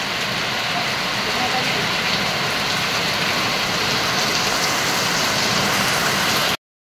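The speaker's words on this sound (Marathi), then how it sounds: "इथे धोधो पावसाची सुरुवात झाली" Heavy monsoon downpour near a creek, a loud dense continuous roar of rain drumming on surfaces, steady throughout before cutting off abruptly.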